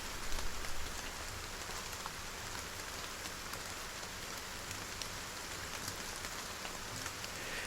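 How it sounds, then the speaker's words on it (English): Steady rain from the video game Battle Brothers falls as an even, dense hiss of drops on a surface, continuous and unchanging in level with no voices. "Oh, but it's raining."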